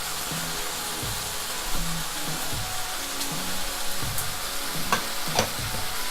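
Soy sauce goes into pork with green beans stir-frying in a pan for Thai basil pork, setting off a steady loud sizzle with scraping stirs and small clinks of the utensil against the pan.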